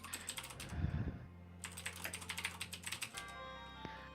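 Someone types on a computer keyboard in quick irregular bursts of clacking keystrokes, pausing briefly between flurries, close by with a low hum underneath.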